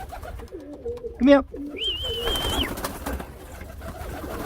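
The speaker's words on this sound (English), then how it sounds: "I actually really enjoy having this kind of aviary section on it, because it's very nice to watch them fly around." Pigeons coo in an aviary, a clear low burst of cooing and wing flutter up close, with a person calling to the birds and speaking nearby.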